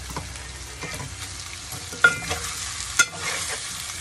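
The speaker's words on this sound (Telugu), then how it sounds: "ఇలా ఆయిల్లో వేసి ఒక 5 minutes ఇలా చేయాలి." Food frying in hot oil with a spoon stirring through it, a steady close sizzle broken by a couple of sharp scraping clinks, no talking.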